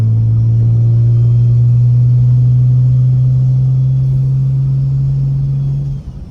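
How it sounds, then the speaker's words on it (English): A BMW 335i with a big single turbo, T51R mod, anti-lag and 26 psi boost drones in a steady, loud engine hum at constant pitch, then cuts off abruptly near the end. "If y'all can hear that turbo"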